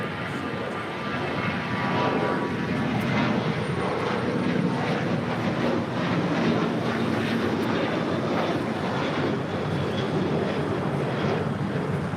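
A jet airliner takes off from runway 25 Right at LAX, its engines a loud, steady, broadband roar that holds for the whole stretch with no pauses.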